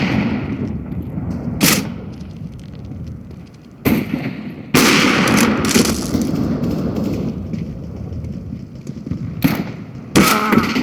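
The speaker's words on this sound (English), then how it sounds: "Deploying flashbang. Grenade out." Flashbang and grenade explosions in the Counter-Strike video game: several sharp, loud bursts over a continuous noisy game background.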